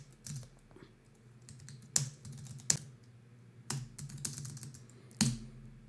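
Credit card details tapped out on a computer keyboard: soft clicking keystrokes in short clustered bursts, with sharper single key presses standing out every second or so, close and quiet, without talk.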